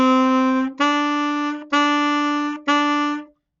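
Four tongued alto saxophone notes from a beginner exercise, each held evenly and briefly separated by a clean tongue attack, played close and solo at a moderate level.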